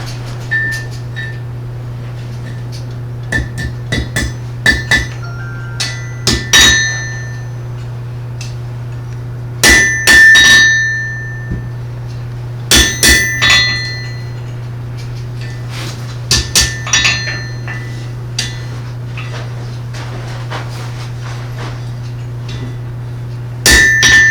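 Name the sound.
blacksmith hammering metal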